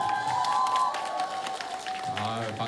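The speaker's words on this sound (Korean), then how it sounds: "박수까지 나오시고." A live audience at a Korean singer's Q&A talk session claps, a moderate spatter of applause that builds briefly and fades under speech, with a higher tone ringing across the first half.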